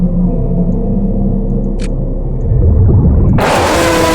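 A fuse box in The Mimic video game gives off a steady low electrical hum that drones throughout, with a brief high chirp midway and a loud broadband burst near the end.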